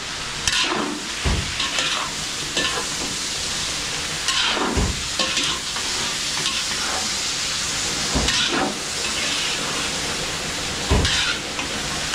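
Chicken pieces sizzle and hiss loudly in a hot pan as they are sautéed for adobo, with a steady frying roar broken by several scraping stirs and clatters, and no voices.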